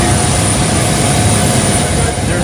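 Jet plane, Air Force Two, on an airport apron, a loud steady engine roar and whine through the whole clip, with some talk in the background.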